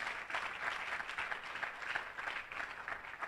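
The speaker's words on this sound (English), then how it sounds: "who deserves another round of applause." A university audience applauds the Vice Chancellor at a project launch in Lagos, steady distant clapping spread across a large room, fairly faint and even throughout.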